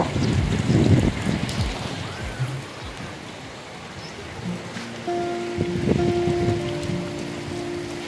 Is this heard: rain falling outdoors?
yes